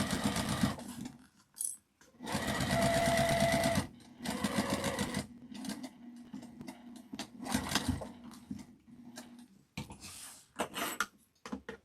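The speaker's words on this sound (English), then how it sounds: "Flatten it out and sew across the bottom." A sewing machine stitches across the bottom of a fabric tote bag in several close bursts of fast whirring, separated by short pauses and light handling clatter.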